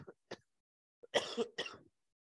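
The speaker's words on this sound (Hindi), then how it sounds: "खांसी क्यों?" A teacher coughs several times during a physics class, rough bursts close to the microphone, with a brief pause between the first pair and the louder, longer pair that follows.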